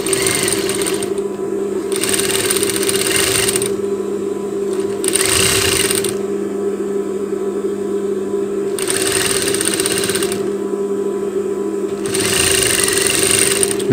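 A sewing machine stitches the sleeve of a children's sports shirt, its steady mechanical hum broken by bursts of rapid high whirring stitching, about four runs separated by brief pauses, close and with no talk.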